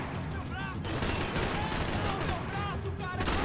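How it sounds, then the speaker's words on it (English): Blind-fire gunshots in the video game Max Payne 3: a rapid, dense volley of shots with sharp reports over a busy game mix, loud and close, while a person talks and exclaims. "I didn't know you could blind fire."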